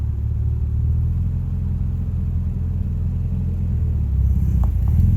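A 1968 MGB pulls away in first gear with the clutch feathered, giving a loud, close, low engine rumble that holds steady and builds slightly toward the end.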